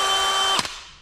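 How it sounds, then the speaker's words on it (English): A small cordless drill fitted with an auger whines at a steady pitch while digging a hole in soil, then cuts off abruptly and winds down in about a second. "I think the hickories I can get with the auger that I put on this little cordless drill"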